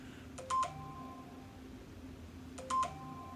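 A mobile phone sounds two short electronic beep bursts, about two seconds apart, during a quiet breathwork session indoors; each is a brief, clear tone over low background hiss, and no one speaks.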